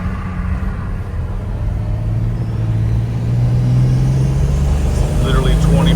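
A turbocharged 4.7 stroker engine in a built Jeep Wrangler Rubicon runs at part throttle, a loud, close, deep rumble with a steady drone that rises slowly in pitch as it pulls.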